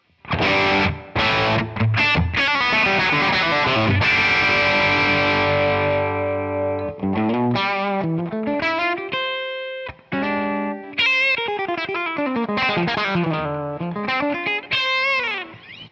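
An electric guitar through a Two-Rock TS-1 V2 100-watt amp with reverb plays a chord followed by single-note runs and bends, ringing out with a reverberant tail, loud and close.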